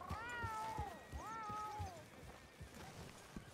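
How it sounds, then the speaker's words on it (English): A domestic cat in Red Dead Redemption 2 gives two drawn-out, wavering meows close by, with soft thuds underneath before the sound fades to quiet ambience. "American domestic cat."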